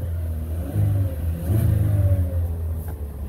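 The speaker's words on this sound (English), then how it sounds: "Rev her up. It's very quiet." A 2014 Chevy Cruze engine in excellent condition revs up twice from a steady idle, each rise a close, smooth, moderately loud surge before settling back, heard alone.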